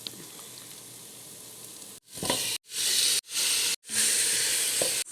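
Chicken hitting a hot pot with black pepper, paprika, cumin, turmeric and tomato paste for a Arabic vegetable soup, bursting into loud close sizzling in four surges after a quieter low simmer.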